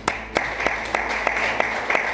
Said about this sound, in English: And they're applauded.